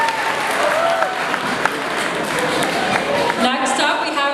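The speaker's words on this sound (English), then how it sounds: "So please give Mel another round of applause." An audience at a Miss Teen Philippines pageant event gives a sustained round of applause, a dense and fairly loud clapping crowd that continues steadily for the whole stretch.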